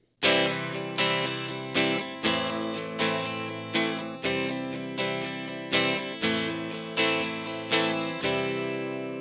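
An acoustic guitar strummed rhythmically, with steady accented downstrokes roughly every second and lighter strums between, ringing full chords, close and alone.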